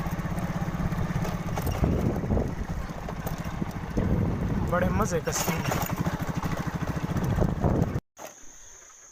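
A lone motorcycle's engine runs steadily near a crystal-clear stream in a scenic Punjab village, someone talking over the motor until it cuts out abruptly near the end.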